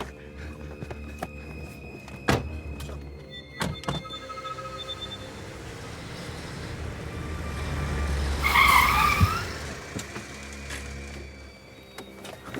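A car pulls away with a couple of sharp thunks early on, its engine building, then a loud tire squeal flares briefly before the motor fades into the distance.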